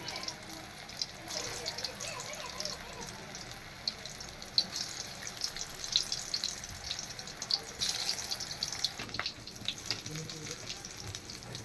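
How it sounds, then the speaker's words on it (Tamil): Elephant foot yam kola balls deep-frying in hot oil on low heat, a soft continuous bubbling sizzle with crackly spits, fairly quiet and steady throughout. "இப்போ எண்ணெய் காஞ்சிருச்சு. இப்போ உருண்டையை போட்டு விட்லாம்."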